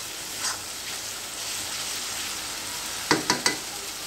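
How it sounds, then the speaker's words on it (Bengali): Onions, spices and green chillies fry in a pan for a Bengali pangas fish curry, a soft continuous sizzle with a quick run of three clinks of a utensil near the end. "এখানে পেঁয়াজ ভেজে এরপর সমস্ত মশলা দিয়ে কাঁচামরিচ দিয়ে আমি খুব ভালোভাবে মশলাটা কষিয়ে নিতেছি।"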